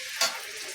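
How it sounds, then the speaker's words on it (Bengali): Chicken frying with spices in a pan, a brief bright sizzle flaring up once and then settling into a soft, steady crackle close by. "আমি এটা সম্পূর্ণ একটু ভাজা ভাজা করে নিব মশলাটা দিয়ে"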